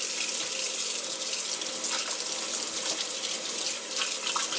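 Water pouring steadily from a tap into a kitchen sink and down the drain, a constant close hiss and splash with no talking.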